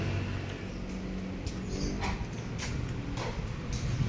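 Pepper, a pet dog, gives a few faint whimpers and soft yips against steady outdoor background noise, with no talking.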